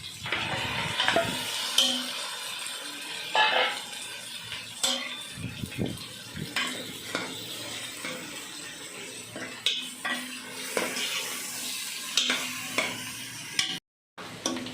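Close, steady sizzling of country chicken frying in a pan with masala, with repeated scraping and clinking as it is stirred, continuing throughout with no talking.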